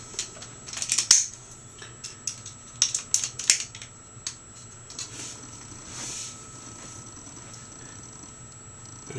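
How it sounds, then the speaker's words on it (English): Landing gear on a Bandai DX Chogokin VF-25S Messiah toy folding up and small plastic panels snapping shut, a series of crisp close clicks and ratcheting snaps in bursts, then quiet handling. "Pull the fold up landing gear here."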